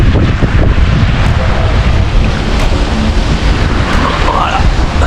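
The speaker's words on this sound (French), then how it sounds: "le vent il est reparti normalement pour la journée" Strong wind roars steadily across the microphone aboard a sailing catamaran at sea, a constant heavy rush with low buffeting and no letup.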